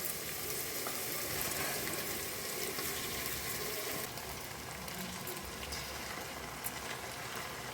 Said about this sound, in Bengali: জল ঝরানো এই চালটা তুলে দেবো